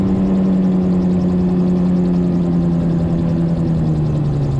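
The engine of a gyroplane flying near Snowdon is throttled back to idle, giving a steady loud droning hum whose pitch sags slightly as the power comes down, with wind and airframe noise underneath.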